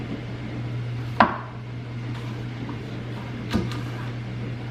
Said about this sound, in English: I feel like chopping the sweet potato in half is like the hardest part